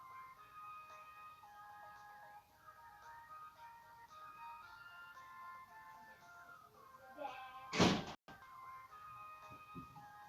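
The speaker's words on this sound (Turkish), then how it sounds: "Kapı yine biri çalıp kaçıyor." A quick, loud cluster of knocks on a door lands near the end, rising over quiet game music and electronic tones in the background.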